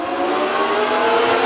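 Race cars with 600cc factory stock motors accelerating hard at the green flag at a speedway heat race, a dense, loud, continuous engine roar with no talk.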